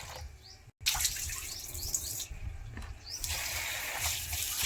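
Basmati rice being rinsed in water at a kitchen sink ahead of making biryani, giving a steady close splashing and running-water wash with a brief break near the start.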